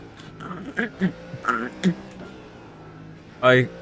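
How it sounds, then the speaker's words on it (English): Squeaky sim racing brake pedal in an iRacing GT3 session, giving several short creaking squeaks at irregular intervals, with a louder, longer squeal near the end, close to the microphone and alone without talk. "Do you hear my brake pedal?"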